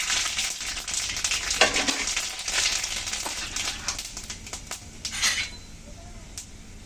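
Black mustard seeds crackle in hot oil with turmeric for a mango dal, giving a steady sizzle with sharp popping bursts, along with spoon stirring and clinking against the pot.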